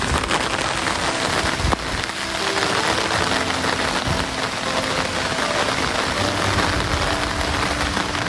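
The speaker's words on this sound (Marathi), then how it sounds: "पाऊस आला खूप जोरात." Heavy monsoon rain pours onto a farm field during rice planting, a dense, loud, unbroken roar of drops, close and steady for the whole stretch, with no voices.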